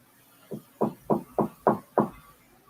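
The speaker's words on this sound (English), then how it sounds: "The knocking sounds polite yet urgent, definitely human." Knocking on a painted-over door: six evenly spaced, solid raps, each a dull thud with a short tail, moderately loud in a quiet room with no voices.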